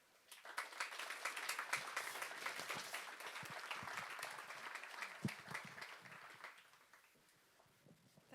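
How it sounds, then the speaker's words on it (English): Warm audience applause at a medical round table aboard the hospital ship Global Mercy, a dense wash of many hands clapping that swells quickly, holds for several seconds, then fades out, heard at moderate distance. "May I ask you for the warmest applause possible for Miriam John."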